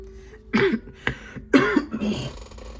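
A couple of sharp, close coughs with throat-clearing sounds between them, alone without talk.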